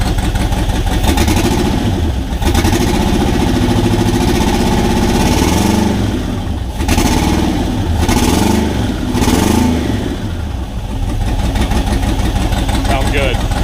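Twin-turbo V8 with no cam fitted, installed in a Datsun 720 pickup, idles roughly and revs in repeated loud blips, a deep burbling exhaust with turbo whine rising on each rev, right up close; speech is also picked up.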